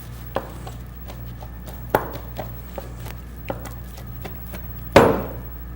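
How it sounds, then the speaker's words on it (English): A knife chops olives for a chopped salad, scattered soft cutting-board knocks at an uneven pace, with one louder clunk near the end, over a low steady room hum. "after we're done chopping the olives, they're going to go into the chopped salad"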